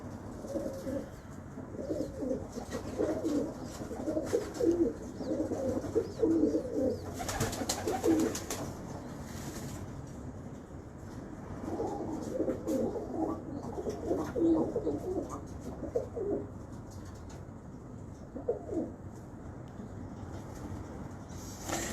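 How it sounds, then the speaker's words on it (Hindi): A Sialkoti pigeon with a black ring coos in soft, low, rolling bursts over a steady outdoor background hum, moderately close and repeated several times with quiet stretches between. "ये सियालकोटी कबूतर है।"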